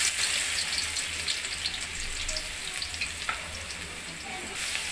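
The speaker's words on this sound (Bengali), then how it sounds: "রসুন কুচিটা আমি একটু ভালো মতো ভেজে নিব" Chopped garlic fries in oil with dried chilies, for prawns cooked with taro leaves; a crackling sizzle with scattered small pops and spits holds steady from start to finish, close and unaccompanied by talk.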